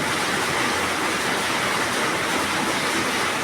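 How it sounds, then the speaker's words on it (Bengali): Pointed gourd pieces frying in hot mustard oil in a wok, giving a loud, dense, continuous sizzle that holds steady from start to finish with no pauses. "পটলগুলো একে একে আমি কড়ার মধ্যে দিয়ে পটলটা ভালো করে নাড়া চাড়া করে নেব"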